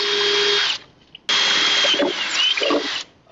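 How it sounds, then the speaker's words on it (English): A power drill boring a hole through the metal arm of a manual dump truck tarp system, running in two loud sustained bursts with a short pause between them and small pitch shifts as the bit bites. "I'm going to finish drilling that hole"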